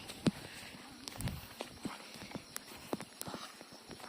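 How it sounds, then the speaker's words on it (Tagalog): Horse hooves clip-clop on a hard surface in an uneven walking rhythm, moderately close, with scattered clicks and faint background noise, on a mountain trail. "Uy, may kabayo."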